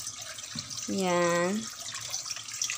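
Water poured into a container for homemade kakanin, a short rising gurgle lasting about half a second, near and clear, with a brief spoken word around it.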